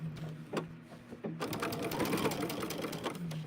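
A sewing machine stitches a quilt in close, rapid bursts of mechanical whirring and clicking that start and stop, with a person talking over it.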